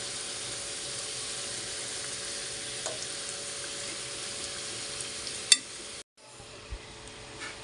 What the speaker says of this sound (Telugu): ఇలా తిప్పేసుకుంటూ కాల్చుకోవాలి. టూ సైడ్ కాల్చుకోవాలి.